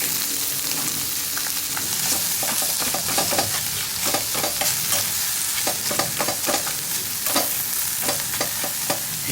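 Salmon from a pack being heated through in a camp pan, a steady sizzle with repeated scraping and clacking stir strokes close by, no talking.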